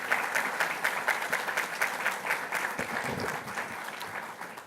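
An audience at a school board of education meeting gives a sustained round of applause, an even mass of clapping heard from within the room.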